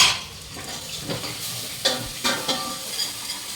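Prawns being mixed by hand with turmeric powder, soft wet squelching and rustling strokes in an uneven rhythm, close and moderately quiet.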